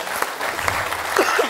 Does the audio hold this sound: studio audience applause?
yes